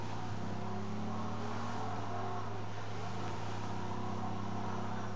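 A car in GTA V drives flat out, its engine droning loud and steady with a constant high-revving tone and road rush, no pauses or gear changes.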